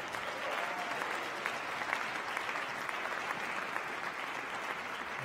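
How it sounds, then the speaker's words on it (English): A crowd applauds steadily for a 10th grade school band at a concert, a dense wash of clapping that holds at an even level throughout. "Let's give our 10th grade band another round of applause."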